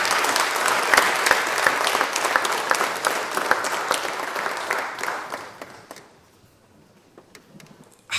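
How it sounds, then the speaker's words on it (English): A lecture audience at a talk on Malcolm X and Islam applauds a speaker, giving sustained, loud clapping that fades out after about six seconds into near silence. "Please give him a round of applause"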